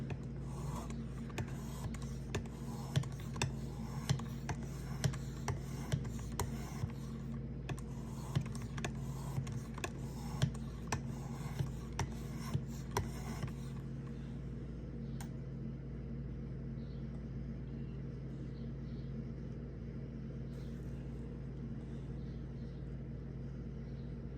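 A Ferrum Forge Massdrop knife blade is hand sanded with sandpaper, rhythmic scraping strokes for about fifteen seconds before stopping, leaving only a steady background hum.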